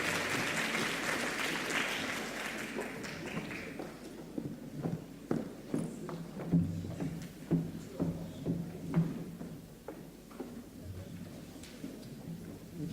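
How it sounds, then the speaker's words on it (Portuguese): Audience at a national vocational training congress applauding for about four seconds, the clapping fading into scattered footsteps and shuffling across the room. "Uma grande salva de palmas e vamos começar com o segundo painel."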